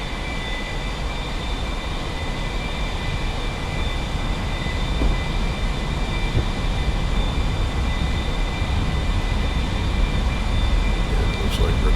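An A-4E jet in a flight sim game rolls down the runway for takeoff with a loud, steady engine roar and a faint high whine throughout.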